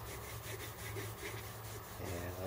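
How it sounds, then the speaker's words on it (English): Cloth rubs boiled linseed oil into the wooden stock of a Winchester Model 50 shotgun, a close, steady scrubbing with rhythmic back-and-forth strokes and no talk. "And so just rub it on everywhere."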